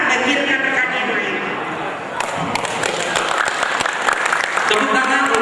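Applause breaks out for graduates at a welding inspector certification ceremony in Batam, steady and dense from a seated crowd throughout, with the sharp claps thickening about halfway through and an announcer's voice mixed in.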